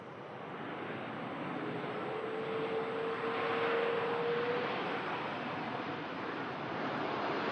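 A passenger airplane arriving from Alicante passes as a steady, broad roar that swells slightly toward the middle and then holds, with a faint rising whine, distant and continuous under wind and no voices.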